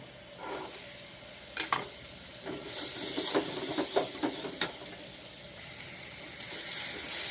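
Spice paste and green peas fry in oil for a pea and mushroom curry, a quiet, low sizzle broken by a scattering of sharp stirring knocks and scrapes near the pan.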